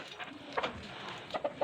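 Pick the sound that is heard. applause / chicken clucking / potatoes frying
chicken clucking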